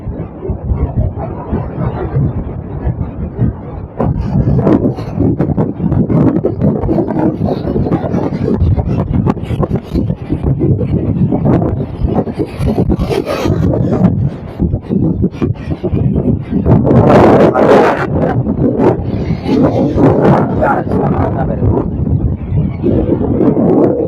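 Strong wind roars over a surging sea on the coast at Mathagal, a loud, unbroken rush of gusts and breaking water that stays dense and steady throughout, with heavier bursts near the middle.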